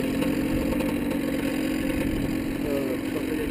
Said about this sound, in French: Il marche bien, le moteur.